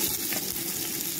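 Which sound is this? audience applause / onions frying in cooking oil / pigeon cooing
onions frying in cooking oil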